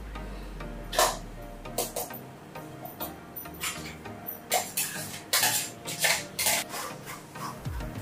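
Thick homemade tomato paste is pushed through a metal strainer for ketchup, giving repeated close scraping and rubbing strokes with occasional clinks of the utensil against the mesh, with no talking.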